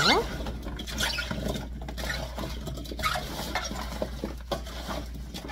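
Salted radish cubes for kkakdugi being turned over in a bowl, with close, irregular clattering, scraping and wet patter of the pieces tumbling against the bowl, and some faint background noise.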